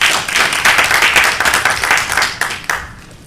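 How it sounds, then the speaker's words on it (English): Applause at a women's commission meeting in Laredo, a close, dense burst of many hands clapping with sharp individual claps standing out, tapering slightly toward the end. "So let's give everybody a big round of applause."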